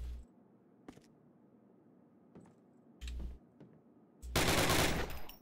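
Gunfire in a Call of Duty first-person shooter, with MP40 and MP44 submachine guns mentioned: a few scattered single shots and short bursts, then a loud sustained automatic burst near the end, with no talking.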